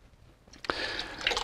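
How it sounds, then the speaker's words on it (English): Lake water poured into a container of water: quiet at first, then a sudden splash and a short run of bubbling, gurgling pouring, close by and alone. "We're going to add some of that to the water."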